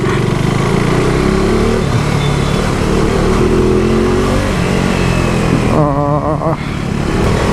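Busy city road traffic in Cuttack heard while riding a motorcycle, with a steady loud engine drone, passing vehicles and wind noise continuing without a break, and a warbling horn near the end.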